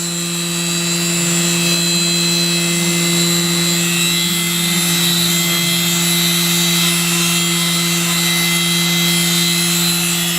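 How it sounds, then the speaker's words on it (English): A CNC machine drills rows of 1mm holes in a double-sided circuit board, a steady whine with strong tonal hums running unbroken and loud throughout, no voices. "So it's just going to drill out all the 1mm holes."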